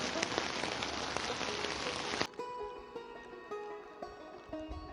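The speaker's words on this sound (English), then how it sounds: "And it's raining again." Rain falls at a river campsite in the Yukon during a solo canoe trip, a dense hiss of drops on a surface that stops abruptly, leaving scattered drips and faint tonal sounds.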